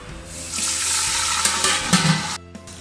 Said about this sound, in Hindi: ऑयल गर्म ही है क्योंकि पतीला हमारा गर्म था। हम इसमें प्याज ऐड कर रहे हैं।